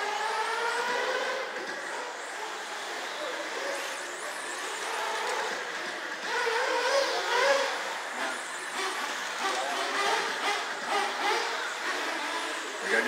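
Electric-sounding 410 sprint RC race cars at a speedway, a busy steady whine of several cars circling continuously through a heat race, with a race announcer faintly under the track noise.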